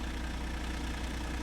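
Steady low idle of a Kenworth T880 truck with a chip-tuned Cummins X15 engine in American Truck Simulator, a close, even diesel rumble with a faint rhythmic throb and no voices.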